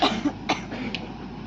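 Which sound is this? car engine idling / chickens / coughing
coughing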